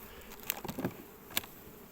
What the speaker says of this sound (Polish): Ale mnóstwo, mnóstwo pszczoły.